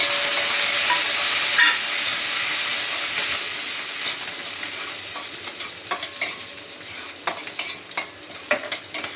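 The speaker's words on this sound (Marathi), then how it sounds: "कोथिंबीर पण तेलातच टाकते" Large chilli pieces and coriander frying in hot oil for a simple potato dish, a steady sizzle and hiss with clattering spoon stirs that grow more frequent and pronounced in the second half.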